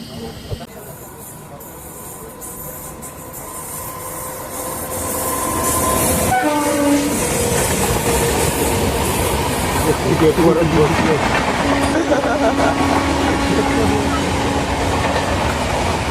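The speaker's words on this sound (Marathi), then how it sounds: "समोरून नेत्रावतीची क्रॉसिंग आहे बघूया आता ट्रेन कधी येते ती" The Netravati Express passes a waiting train at a crossing on the Konkan route. A rising rumble builds into loud, steady wheel and carriage noise, with a horn blast partway through.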